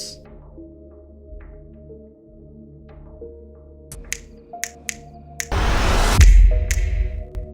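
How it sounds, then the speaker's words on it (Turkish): Several sharp finger snaps in the opening credits of the Addams Family film ring out over sustained, low organ-like music, followed by a brief loud burst of noise near the end. "İlk filmdeki jenerikte parmak şıklatıyorlar"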